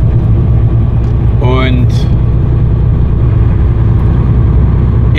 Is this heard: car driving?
yes